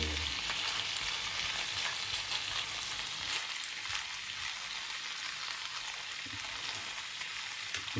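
Filipino hotdogs fry in a pan with a loud, crackling sizzle that stays dense and steady throughout, alongside a few stirring scrapes and no talking.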